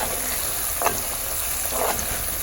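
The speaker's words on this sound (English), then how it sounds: "our ginger and clove oil has cooked properly" Ginger and clove oil cooks in a pan with a steady close hiss of frying, broken by a couple of brief stirring scrapes.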